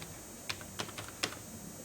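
A handful of keystrokes tapped on a computer keyboard while entering a password for a PostgreSQL connection, quiet and close, about four or five separate clicks with a low room hum underneath.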